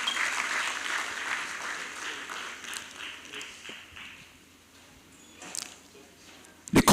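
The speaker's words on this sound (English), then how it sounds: "A louder round of applause for our convener" Applause from a conference audience at Veritas University in Abuja, steady clapping that builds early, thins out in the middle and picks up again briefly at the end.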